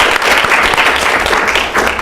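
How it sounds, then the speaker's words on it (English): A student government meeting breaks into loud, dense clapping from a room full of people, steady for two seconds, honoring the freshman caucus. "Let's give them a round of applause, please."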